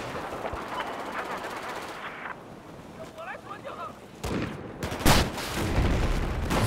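Gunfire in the Battlefield 4 video game: a rumbling backdrop of distant shooting breaks into several sharp, loud bursts near the end, with a voice talking faintly in between.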